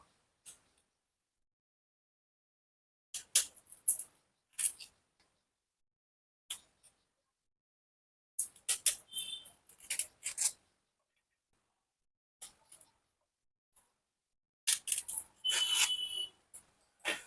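A knife cuts the ends off a ridge gourd in short, close scraping and slicing bursts, some single and some in quick clusters, separated by stretches of near silence.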